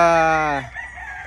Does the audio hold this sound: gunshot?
no